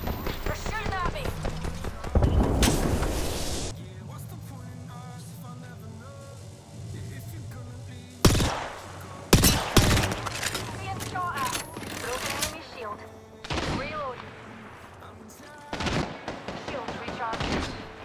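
Gunfire in the Apex Legends video game, with sharp bursts and single shots breaking over a steady game soundscape while a player talks throughout.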